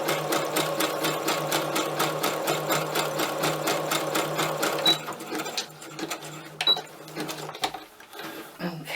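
A sewing machine stitches fabric scraps together into scrappy clusters, running in a steady rapid loud rhythm for about five seconds before slowing and stopping, followed by a few soft handling noises.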